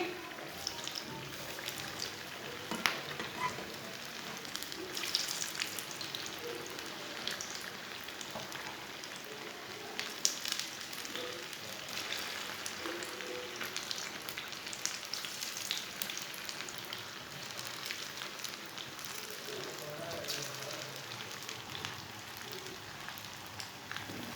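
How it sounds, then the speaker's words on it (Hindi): Potato kebab patties fry in a pan over medium heat, a continuous crackling sizzle like rain with scattered pops, steady and fairly close. "टिक्कियों को 2 मिनट के लिए फ्राई होने देंगे"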